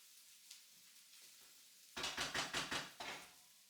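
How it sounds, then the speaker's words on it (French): Thai-style fried rice sizzles faintly as it sticks in a frying pan, then a quick run of about six loud sizzling scrapes follows as it is stirred. "je vais laisser le riz là un petit peu cramer, on va dire, coller un peu dans le fond de la poêle"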